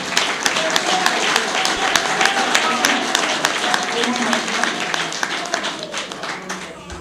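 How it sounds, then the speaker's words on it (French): A large crowd claps continuously, a dense, steady patter of applause that holds for several seconds before easing slightly. "je vous demande d'applaudir en guise d'expression de ce vote"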